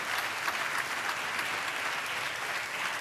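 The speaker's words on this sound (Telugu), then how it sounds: "చప్పట్లు కొడితే యేసయ్యకు స్తోత్రాలు." A church congregation claps together in steady, dense applause, a continuous even patter with no pauses and no talk.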